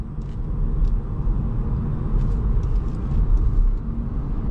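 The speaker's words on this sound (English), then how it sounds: "now I'm accelerating" Inside a Chevy Bolt EV pulling away, a low steady road rumble and tire roar fills the cabin, swelling slightly as the car picks up speed, with faint scattered ticks above it and no engine note.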